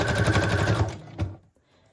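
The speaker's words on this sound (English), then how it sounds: "And I'm totally fine with the sewing being kind of messy." A sewing machine rapidly stitches through strips of scrap paper, a close rattling run of needle strikes lasting about a second, then a brief final clunk and quiet.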